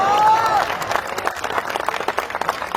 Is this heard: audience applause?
yes